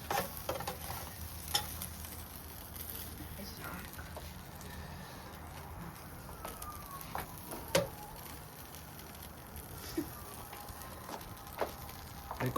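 Bacon sizzles in a pan while smash burgers are made, a steady crackling hiss with scattered pops and clicks. Voices talk quietly over it now and then.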